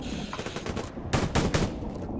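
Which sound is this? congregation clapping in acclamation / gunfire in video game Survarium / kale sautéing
gunfire in video game Survarium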